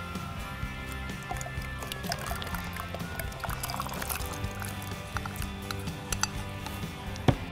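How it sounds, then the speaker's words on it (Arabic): Pomegranate seeds tumble and pour into a bowl of cold water, with soft wet pattering and small clinks against the bowl over a low steady hum, no talking. "بعد كده هنحط الرمان"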